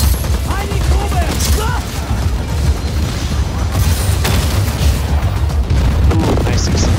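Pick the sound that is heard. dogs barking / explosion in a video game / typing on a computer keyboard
explosion in a video game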